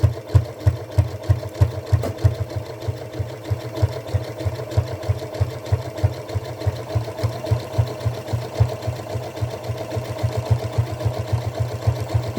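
A sewing machine stitches along a fabric edge for a tote bag, its needle mechanism thumping in a fast, steady, even rhythm close up for a long unbroken run, with no talking over it.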